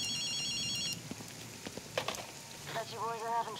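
Telephone ringing in the video game Ghostwire: Tokyo, a short electronic trill at the start followed by faint scattered game sounds and a brief warbling tone.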